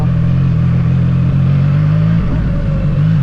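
A CFMoto 675SR motorcycle engine runs loud and steady, with a short throttle blip and rev change partway through; the bike has a throttle surge around 5000 rpm.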